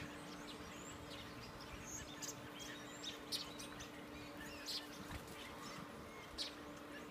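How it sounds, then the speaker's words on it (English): A large flock of birds calls outdoors with faint, scattered chirps and tweets over a low steady background hum, quiet and distant throughout. "Look at all these birds."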